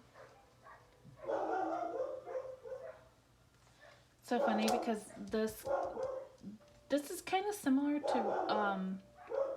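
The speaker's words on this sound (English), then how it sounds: "that's my dog barking" A pet dog barks in short bursts in a home setting, loud and close, in clusters between stretches of someone talking.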